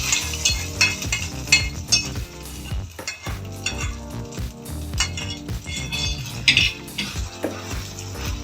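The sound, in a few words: cashews and raisins fried in ghee added to pot, stirring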